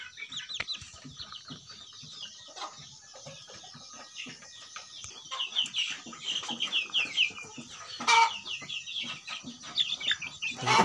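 Chickens in a pen cluck and chirp continuously while eating, a busy overlapping chorus that grows denser and louder toward the end, with a few sharp squawks.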